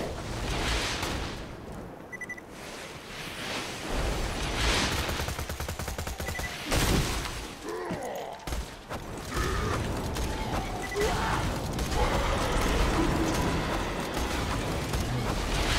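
Video game combat with a thrown grenade and gunfire: dense, continuous bursts of shots and mechanical clatter run loud throughout, with no clear pauses.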